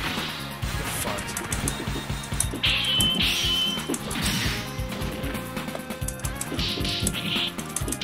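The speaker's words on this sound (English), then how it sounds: "Shield sounds like glass" Shield blocks in the Darkstalkers fighting game ring out as sharp glass-breaking crashes amid rapid hits, whacks and game effects, repeating in a dense, busy stream throughout.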